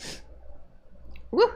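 A single close sneeze bursts out at the start, then a short quiet stretch before a person lets out a brief exclamation.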